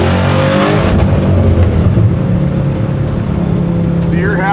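A garage-built square body Chevy truck making 600 wheel horsepower accelerates hard with a loud, close, sustained engine roar that briefly bangs the rev limiter, while voices come through underneath.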